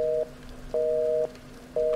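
A telephone busy signal in a horror video game: three loud, evenly spaced beeps, each about half a second long, with quiet gaps between them.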